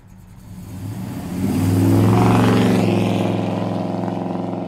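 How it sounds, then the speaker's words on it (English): A 1969 Dodge Coronet engine revs through headers and exhaust, a deep throaty roar that swells and holds steady as the car pulls away, loud and close with no talking. "Those headers are just making it sound fantastic. Love the exhaust on this baby."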